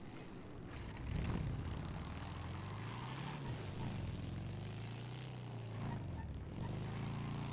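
Motorcycle engine in a GTA roleplay game, a steady mid-distance drone whose pitch swells and dips as the throttle changes over several seconds.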